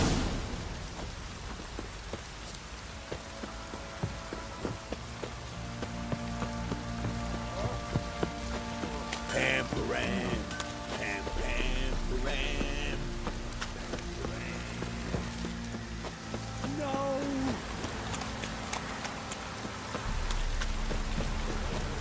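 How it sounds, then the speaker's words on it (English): Steady rain hiss from The Witcher 3 game runs throughout, with music and other game sounds layered over it, fairly quiet overall. "This downpour's a bastard, it is."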